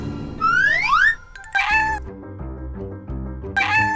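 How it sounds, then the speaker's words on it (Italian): A cat meows repeatedly in a children's firefighter play scene with a tree rescue, the cries rising and falling between stretches of bright music. "Il mio gatto è sull'albero!"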